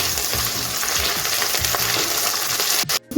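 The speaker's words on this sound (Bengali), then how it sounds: "কষিয়ে নিচ্ছি পেঁয়াজের সঙ্গে" Ginger paste and onions fry in a pan with a loud, dense sizzle and light stirring scrapes, cut off abruptly just before the end.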